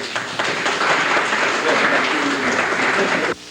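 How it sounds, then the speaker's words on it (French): Studio audience at a Haitian television anniversary show applauds in a dense, loud burst of clapping that runs for over three seconds and then cuts off abruptly. "Quelques applaudissements pour vous."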